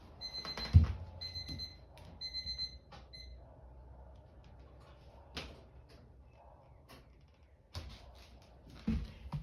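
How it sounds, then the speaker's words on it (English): A kitchen timer goes off with a few quick bursts of high, repeated beeping near the start, followed by clunks and handling noises in a quiet room. "that would be the timer"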